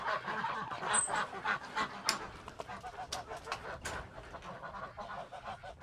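Ducks and geese in freezing weather quacking and honking in a busy, overlapping chorus, fairly close, with sharp calls rising above the steady background.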